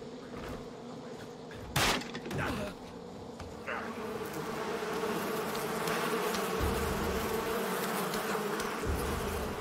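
Bees buzzing in the video game Far Cry 5, a dense steady drone with a loud thump early on, the swarm holding at a constant level and sounding close, with no talking.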